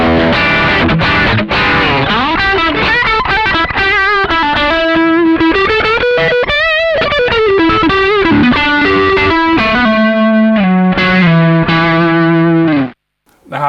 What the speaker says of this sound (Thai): เราก็จะมีเสียงแตกนะครับเสียงแตกก็เหมือนเดิมเน็กกับบิดเนาะ